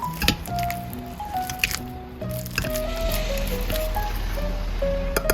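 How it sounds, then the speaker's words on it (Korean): Overripe bananas being mashed by hand give wet, squishy squelches and soft sticky pops in irregular bursts, close and clear over quiet melodic background music. "이제 집에서 썩고 있는 바나나를 으깨줄게요."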